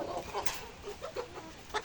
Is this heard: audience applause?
no